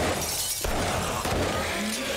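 Gunfire shatters bullet-resistant glass behind a bar counter in the video game 7 Days to Die. The loud crash of breaking glass comes over dense, noisy game sound with sharp impacts.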